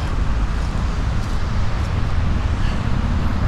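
Busy street traffic with trucks and motorcycles beside a pedestrian mall and shopping centre in Santo André, São Paulo, a constant loud roadway rumble with wind buffeting, no distinct passes standing out.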